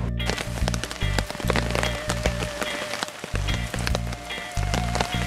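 Rain pouring down on a hammock camp during a backpacking overnighter at Castle Rock State Park, a dense, loud, continuous hiss of drops close by with scattered sharper taps, no voices.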